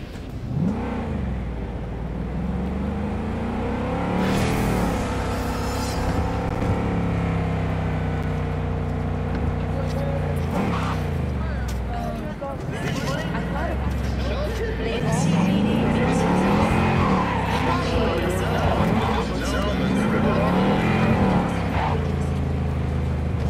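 A car engine hums and revs as it drives in the video game Cyberpunk 2077, a continuous motor drone with rising and falling pitch, heard under frequent talking voices.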